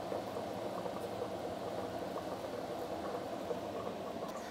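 Chicken stock broth boiling around braised pork leg in a pot: a steady, even bubbling hiss that runs continuously without pause, with no voices.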